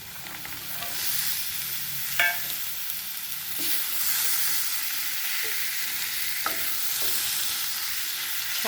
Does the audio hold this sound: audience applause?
no